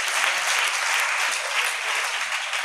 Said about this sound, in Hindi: जोरदार तालियां पहले दोनों के लिए